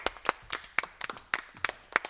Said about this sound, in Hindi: और आप लोग ताली ज़रूर बजाइए।